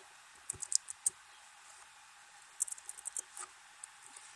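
Typing a command on a computer keyboard: light, quick key clicks in two short bursts separated by a pause, close and fairly faint.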